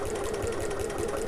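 A sewing machine stitches close to the edge of a backpack, a close, steady, rapid mechanical hum running evenly throughout.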